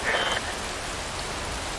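Rain falls steadily in a video game, a dense even hiss of drops on surfaces, with a brief croaking or chirping creature call at the start.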